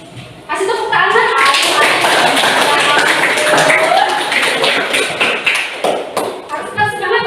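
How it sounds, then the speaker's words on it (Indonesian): Classroom applause from students, a dense, sustained wash of many hands clapping that starts abruptly and continues loudly throughout, thinning slightly near the end, with voices mixed in. "Kasih tepuk tangan."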